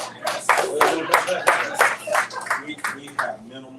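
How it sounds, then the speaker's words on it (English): Scattered audience clapping breaks out at a speaker event in an ice house venue, uneven bursts of claps mixed with a voice talking through them. "Go ahead and clap."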